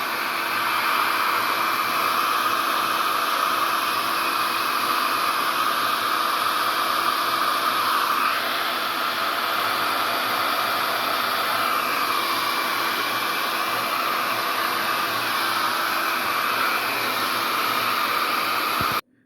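A hair dryer blows steadily on a loose watercolor still-life painting of fruit, a loud continuous whooshing roar with a slight shift midway, running alone without speech and cutting off abruptly at the end.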